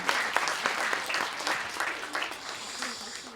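Church congregation applauding shepherds and ministers, a steady dense clapping from a crowd that carries evenly through the whole stretch at moderate distance.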